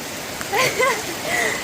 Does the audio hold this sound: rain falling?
yes